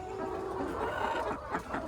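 Farm chickens cluck steadily in a backyard coop, a few short calls rising over a constant low murmur of the flock.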